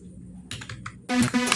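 Fingers tap out text on a mobile phone's touchscreen keyboard while designing in a phone editing app, a close run of quick light clicks that grows denser and louder partway through, with no talking.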